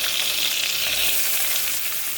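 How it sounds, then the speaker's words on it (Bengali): Three green chillies fry in hot oil in a wok before pointed gourd is added. The sizzle is close and steady, with a continuous bright hiss that has no pauses. "3টে লঙ্কা আমি ভালো করে ভেজে তারপরে পটলগুলো দিয়ে দেবো"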